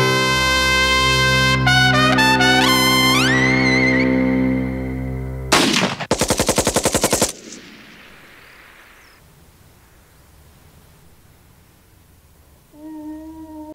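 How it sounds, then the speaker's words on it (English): Gunfire opens the 1982 Hungarian film Another Way, set in 1958 Hungary: after sustained tonal music comes a loud, close volley of rapid, sharp shots lasting under two seconds, followed by a much quieter stretch. "So you get these gunshots and then this title, 1958."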